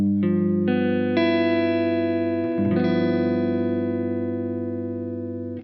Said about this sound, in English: This time we'll throw in a G13th, which sounds like this.